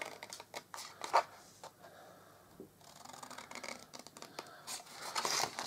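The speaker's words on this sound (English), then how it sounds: "And then just cut up your little score lines." Scissors snip through thick cardstock along score lines for a small gift bag, giving quiet, irregular crisp cuts and papery scrapes close by with no talk.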